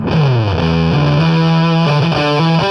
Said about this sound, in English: I've got a tube screamer going on.